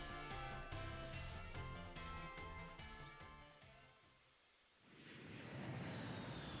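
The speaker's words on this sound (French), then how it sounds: "Oh, c'est stylé le petit avion." A small airplane in Pokémon Scarlet roars up from a fading musical passage, its engine drone swelling loud and steady over the final seconds.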